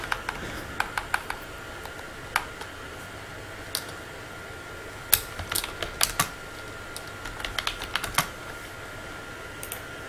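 Irregular bursts of typing on a computer keyboard, quick clusters of key clacks scattered across the stretch, close and moderately loud over a steady low background hum.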